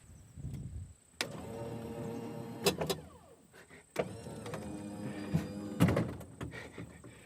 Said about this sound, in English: I installed a Minn Kota deckhand, which will raise and lower the anchor automatically through one of the hose pipes